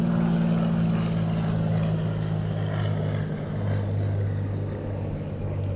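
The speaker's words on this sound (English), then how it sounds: "I'm going to pause for that plane." A propeller airplane drones steadily overhead, a continuous low rumble with a strong tonal hum that slowly shifts pitch, moderately loud and with no talking.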